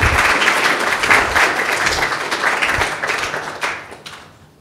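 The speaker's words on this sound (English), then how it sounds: "let's give him a warm round of applause" Warm round of applause from an audience at a talk on architecture for health, loud and dense at first, then thinning out and fading away toward the end.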